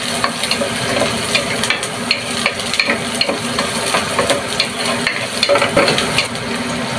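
Garlic and onion frying in hot oil in a pan, being stirred: loud, close, continuous crackling sizzle with scattered scraping taps from the stirring, and no talk.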